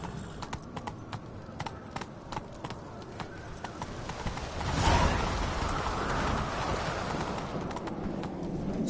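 Hooves of Roach, the horse in The Witcher video game, clip-clop at a steady gallop rhythm, growing louder and heavier midway, with a rain-like hiss and faint game ambience underneath.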